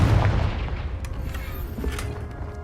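A fire spell blast cast in Hogwarts Legacy, a deep booming burst at the start that rumbles and fades, with faint crackles trailing behind.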